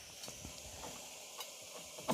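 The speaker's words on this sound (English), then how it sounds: "I can hear them both sizzling." Ribeye steaks sizzle on a Ninja Foodi grill plate inside a Ninja XL air oven: a steady, soft frying hiss dotted with faint ticks and small pops.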